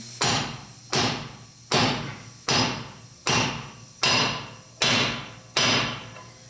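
Eight sharp metallic hammer strikes drive a bearing race into a Jeep Gladiator axle housing with a race driver, at a steady rhythm, each ringing briefly before the next, close and loud with no talking.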